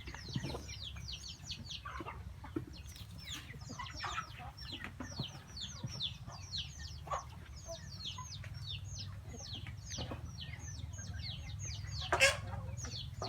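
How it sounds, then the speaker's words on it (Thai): Several free-ranging domestic chickens in a bamboo grove cluck and chatter in quick, uneven bursts close by, over a low steady background hum, with a brief louder squawk near the end. "อันนี้เป็นไก่บ้านที่เขาเลี้ยงไว้อยู่ในป่าไผ่เลยค่ะ"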